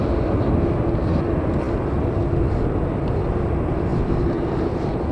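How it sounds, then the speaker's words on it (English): A Ryanair Boeing 737 MAX 8-200 jet airliner at Manchester Airport produces a loud, steady engine roar that fills the whole stretch, with a constant broadband rumble and no talking. "we've got this 737 MAX 8200 Ryanair that is going to Dublin"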